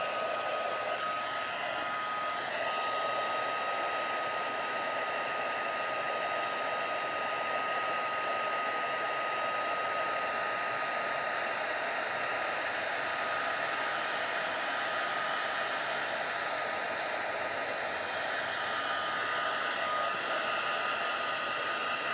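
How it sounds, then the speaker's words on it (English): A heat gun blows hot air steadily while warming up for card-making with stamps, a constant loud whooshing hiss that holds unchanged and close throughout, with no talking. "Alright, so now we'll take our heat gun again. I'm gonna let it"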